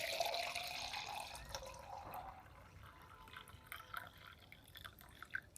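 Salted water poured into a small vessel for a nasal rinse, a light splashing pour with drips that trails off into scattered trickles, close and fairly quiet.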